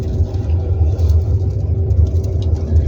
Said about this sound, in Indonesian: kita kurangi dari persneling gigi 2 kita ke persneling gigi 1